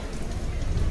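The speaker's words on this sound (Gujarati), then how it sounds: "વરસાદ પડે છે" Steady drizzle falls outdoors at a riverside hilltop temple in Poicha, a dense continuous patter of raindrops on surfaces that stays even and close throughout, with no voices.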